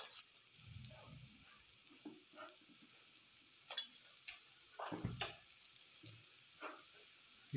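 Chopped onions, turmeric and red chili sizzle in hot oil for soya keema, a faint steady frying hiss with soft stirring scrapes and occasional spoon clicks.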